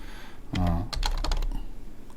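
A quick burst of clacking keystrokes on a computer keyboard set up for Korean input, close and crisp, with a brief vocal sound just before the typing.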